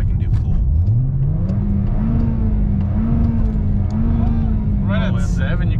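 A Toyota Corolla engine revs upward and holds at a rising drone, loud and close, with a brief whine near the end.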